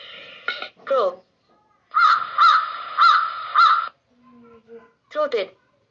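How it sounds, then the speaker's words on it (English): A crow caws loudly and nearby, in a pair of harsh calls followed by a run of four evenly spaced caws, then a quieter low note and two final caws. "Crow."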